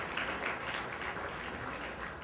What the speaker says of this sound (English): give yourselves a round of applause for being here tonight.